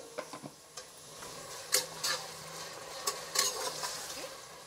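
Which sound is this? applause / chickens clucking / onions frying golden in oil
onions frying golden in oil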